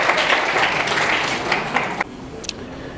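Applause at an official university handover ceremony rolls on for two seconds, a room of clapping hands heard at moderate level, then breaks off into quieter room sound with a few stray claps.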